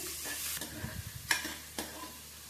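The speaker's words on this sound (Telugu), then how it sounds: "వీటిని కలర్ చేంజ్ అయ్యే వరకు ఒక 5 మినిట్స్ పాటు ఫ్రై చేయండి" Chopped onions frying in a pan, a light sizzle under intermittent stirring scrapes and a couple of sharper utensil knocks against the pan.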